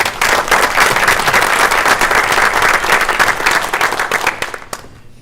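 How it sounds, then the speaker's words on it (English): A school board meeting audience gives a round of applause, dense steady clapping for about five seconds that thins and stops, loud and close in a meeting room. "how about a nice round of applause in her absence?"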